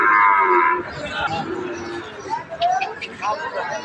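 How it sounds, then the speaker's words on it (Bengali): Sahiwal breed calf lowing at a busy rural cattle market in Dinajpur, with one loud, drawn-out moo at the start and fainter calls later, over crowd chatter and nearby talk. "এখানে দেখছি শাহিওয়াল জাতের একটি বাছুর।"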